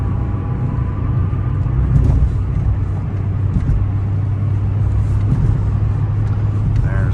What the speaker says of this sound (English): It's not a race car, but it's got good acceleration,